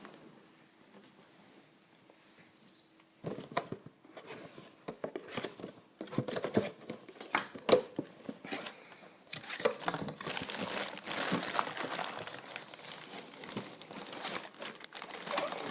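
A knife cuts open the plastic packaging around a boxed Ban Presto Dragon Ball figure, with quiet handling at first, then close, busy crinkling, scraping and rustling of plastic and cardboard that builds and continues.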